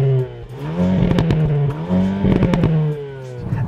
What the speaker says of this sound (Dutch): nog wat extra drama van de uitlaat. Wat plofjes, wat kletters.